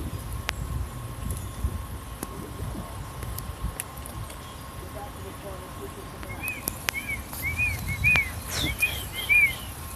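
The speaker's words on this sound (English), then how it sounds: "I was trying to scare the birds." Several birds call with short, high chirping whistles, becoming more frequent toward the end, over faint background noise, rustling and occasional clicks, with people talking nearby.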